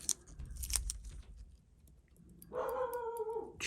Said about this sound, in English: I don't know who he's barking at.